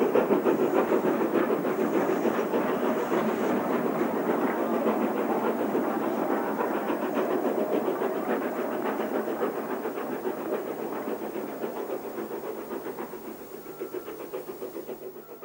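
Steam locomotive 41242 pulls away on the Somerset & Dorset railway toward Evercreech Junction, with a steady rhythmic chuffing, hiss and clattering wheels that carry on loudly and fade slightly as it leaves.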